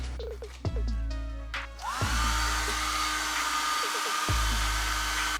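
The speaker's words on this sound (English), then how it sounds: "I want to run a blow dryer over the staff to make sure that the paint is dry" Steady, loud whirring roar of a handheld blow dryer running close by, used to dry fresh paint on a wooden willow staff, with a couple of thumps and brief rattles as it is handled.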